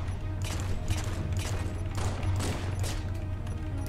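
Halo-sourced weapon fire in a Space Engineers mod, a steady sequence of about six or seven sharp shots at regular intervals over a low continuous hum, moderately loud and without voices.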